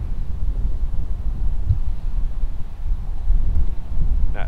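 Wind blowing outdoors during a digital anemometer demonstration: a loud, continuous low rumble of gusts buffeting the microphone, rising slightly toward the end, with no clear speech.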